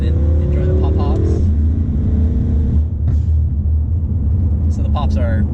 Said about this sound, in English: so they're backfires, but you know, we call them pop-pops around here